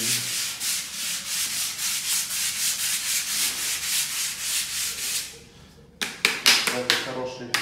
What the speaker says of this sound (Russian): мы уже берем более мелкую шкурку, там соточку, 150-ку, и убираем просто царапины